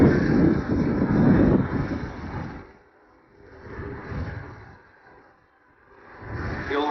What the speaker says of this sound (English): You'll see this helicopter gyrating around its tail rotor in the so-called Heckrotorfigur, the tail rotor figure.